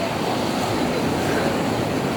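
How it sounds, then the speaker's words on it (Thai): Waves break at a beach in Rayong, heard as a dense, even wash of surf noise with light wind rumble, close and loud, unbroken and without speech. "นี้จะพาทุกคนมาดูคลื่นทะเล"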